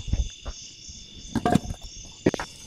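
Crickets and bugs chirp with a high, steady trill, mixed with scattered rustles and soft knocks nearby, outdoors in Talladega National Forest.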